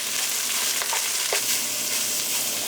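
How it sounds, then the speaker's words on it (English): Sausage frying in a hot pan while being broken up gives a loud, continuous sizzle, close by, with a few soft scrapes and knocks from the utensil. "we're going to put our sausage in. And we'll simply break that up."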